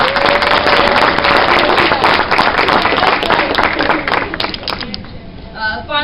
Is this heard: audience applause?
yes